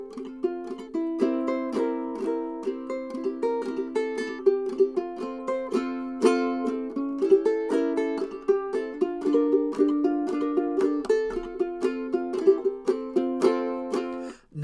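Ukulele picking the folk tune Freight Train in clawhammer style, with a brushed bum-ditty up-pick rhythm, played steadily and fairly fast as a close solo instrument with bright plucked notes and no talk.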